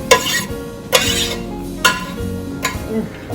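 Onion and butter being stirred in a pan on medium-high heat, with repeated spoon scrapes and clinks against the pan about once a second over a soft sizzle, close up.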